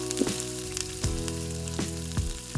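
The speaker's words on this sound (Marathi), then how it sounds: "फोडणी मस्त अशी तडतडली आहे" Mustard seeds crackling and popping in hot cooking oil while tempering for a Konkani-style sprouted val bean curry, sharp sizzling bursts over a steady hiss, close up with no voices.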